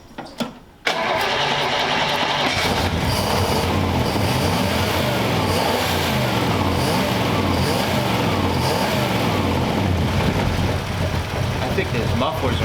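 A 1934 Ford Tudor engine runs steadily and loudly close by after a brief quiet start, its exhaust leaking through half-clogged mufflers, giving a rough, uneven throb that holds for the rest of the clip.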